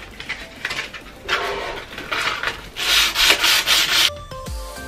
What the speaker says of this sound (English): we're going to give it a scuff sand and we're using 180 grit sandpaper